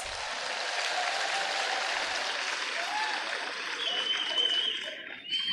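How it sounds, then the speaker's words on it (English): A crowd applauds at a Founder's Day celebration of a charitable institution, a steady wash of clapping with a brief tone and murmuring rising near the end before it thins out. "I think we can give ourselves a big round of applause"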